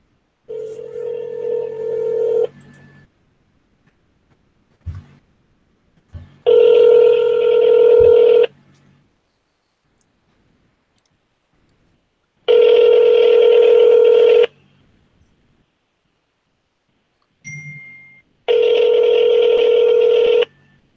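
A phone on speaker dialing out plays steady ringback tones in long bursts separated by pauses, with a short beep before the last tone. The sound is loud and close, and no one talks over it.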